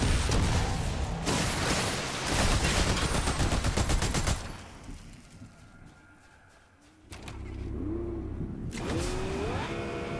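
A car drives in Fortnite, its loud engine roaring and revving up close amid bursts of gunfire, then fading briefly before surging back with more engine noise.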